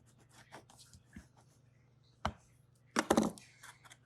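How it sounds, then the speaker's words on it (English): Bone folder burnishing a paper fold for a mini album, making soft scattered rubs followed by a few firm scraping strokes, close and quiet. "I'll burnish it in."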